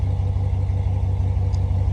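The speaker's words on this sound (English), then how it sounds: "This is Hemi stock sound." A Dodge Ram 1500 pickup with a Hemi engine and stock exhaust, no aftermarket mufflers, idles with a steady deep rumbling burble, close and loud with no voices.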